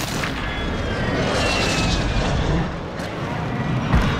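An airstrike in a military shooter game sets off a sustained roar of heavy booms and rumbling explosions, with a jet passing overhead and a sharper blast near the end.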